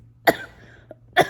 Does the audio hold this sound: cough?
yes